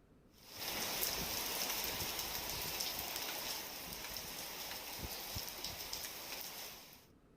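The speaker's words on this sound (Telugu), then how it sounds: "ఉరుములు మెరుపులతో కూడిన వాన పడింది." Heavy rain pouring down in Hyderabad during a storm, a dense, even hiss of drops on surfaces that swells in, holds steady and then cuts away, with no voices.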